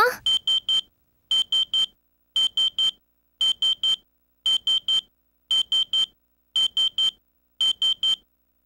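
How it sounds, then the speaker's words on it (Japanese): A PS2 video game alarm clock in Otome no Jijou rings in a steady loop of bright triple beeps, loud and close, repeating in evenly spaced bursts with silence between them. "ちょっと目覚まし鳴ってるわよ起きてるの"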